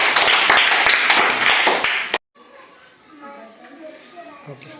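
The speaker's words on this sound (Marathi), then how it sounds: "त्यासाठी सगळ्यांनी टाळ्या वाजवायच्या" Children at a village primary school quiz clap together in a dense burst of quick, loud claps that stops abruptly, followed by quieter room sound with faint voices.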